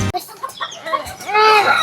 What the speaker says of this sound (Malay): Itulah macam-macam ayam ada.